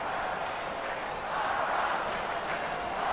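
A basketball arena crowd at a 2023 NCAA Pac-12 Tournament quarterfinal between Oregon State and USC cheers after a dunk, a dense, steady roar that swells slightly midway with no distinct voices standing out.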